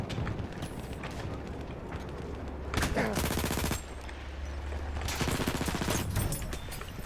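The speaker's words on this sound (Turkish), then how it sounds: "Parabellum'la vurdu adam" Parabellum machine gun in Battlefield 1 on the Amiens map, rattling off sustained automatic bursts amid dense battlefield gunfire, with a louder close burst around the middle and another toward the end.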